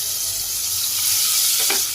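Onions sizzle steadily in hot oil in a home kitchen pan, a close, bright, continuous frying hiss with a brief stir near the end.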